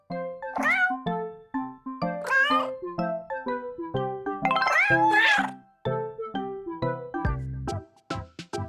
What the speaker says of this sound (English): It's time to take care of our cats.